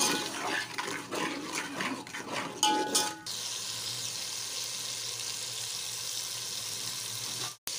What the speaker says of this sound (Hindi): और मसाले को भून लेंगे।